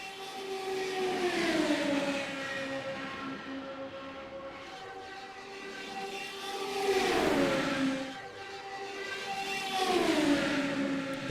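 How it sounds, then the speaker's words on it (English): IndyCar race cars at Charlotte, their high-revving engines rising and falling in pitch as they sweep past one after another, three distinct loud passes swelling and fading with no talk. "They do sound like Indy cars."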